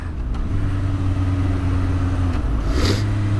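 Suzuki GSX-R 1000 K5 motorcycle engine running close by, a steady drone with a brief rise in revs near the end, held loud throughout with no talk.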